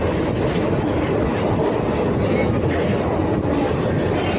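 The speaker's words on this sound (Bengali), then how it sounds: "তো এখন আমরা কালীঘাট মেট্রো স্টেশনে মাটির তলায়" An underground metro train at Kalighat station in Kolkata rumbles loudly and continuously, a dense roar of wheels and carriages filling the space with no voices.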